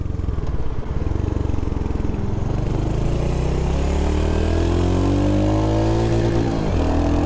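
A Royal Enfield Hunter 350 motorcycle accelerating onto a freeway, its single-cylinder engine thumping loud and close, pitch rising steadily through the gears with a brief dip at a shift.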